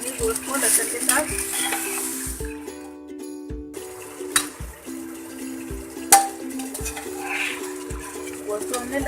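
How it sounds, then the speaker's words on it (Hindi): Mutton frying with garlic in a pot for nihari, close sizzling with stirring and occasional clanks of a spoon on the pot; a short break in the middle, then the frying and scraping resume. "गोश्त को हमने लहसुन के साथ 5 मिनट तक फ्राई कर लिया अच्छे से।"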